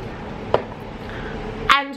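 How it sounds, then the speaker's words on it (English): Two short bursts of hairspray aimed at styled hair, a brief hiss followed by a stronger spray near the end, close and alone with no talking. "hairspray"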